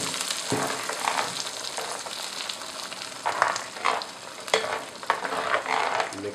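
Ground gravy base for chicken korma frying and sizzling in a pan while being stirred, a steady close hiss broken by repeated scraping strokes of the spoon.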